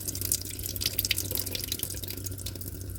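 Liquid being drained from a freshly opened can of potatoes, a steady close splashing trickle into a sink, running continuously with small drips on top.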